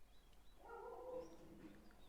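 A dog gives a single drawn-out, whining bark-like cry lasting about half a second, faint and distant against a quiet room, with no voices.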